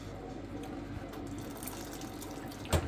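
Water runs steadily from a tap into a cooking pot of rice that is sticking and burning on the bottom, a faint continuous splashing stream with a small clunk near the end.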